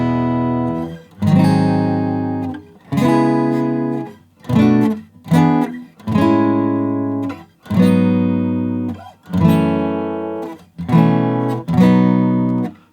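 Guitar in standard tuning plays the verse of a song, a series of strummed chord phrases with short pauses between them, loud and close with no talking.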